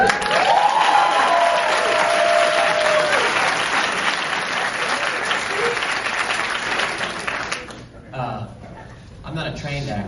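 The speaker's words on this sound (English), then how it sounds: "So that deserves a round of applause." A theater audience at a New Beverly Cinema Q&A breaks into loud, sustained applause with scattered cheers, the clapping fading out near the end.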